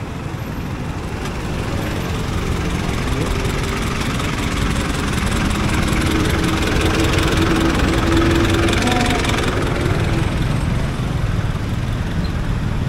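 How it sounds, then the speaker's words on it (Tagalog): A Suzuki Gixxer 155 motorcycle engine warms up at idle, giving a steady, loud low rumble that runs unbroken for the whole stretch, with a faint roadway wash behind it. "Pang-pagising ng engine."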